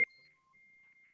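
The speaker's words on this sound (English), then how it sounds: "That ding was a text message coming through." A single short electronic ding from a phone announcing an incoming text message, heard during a church Bible study: one brief tone at the start, then a thin, faint ringing tail in a quiet room.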